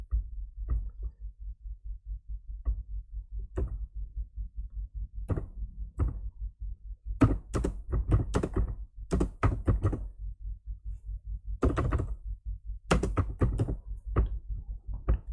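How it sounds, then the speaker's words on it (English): Someone types on a computer keyboard in quiet, irregular bursts of sharp clicks over a low steady hum, with pauses between clusters of keystrokes. "Let me type another text underneath."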